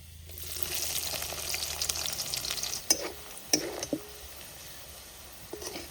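Onion, cumin and bay leaf go into hot oil for dhaba-style palak paneer, giving a close, steady sizzle broken by a few sharp clinks and scrapes of stirring.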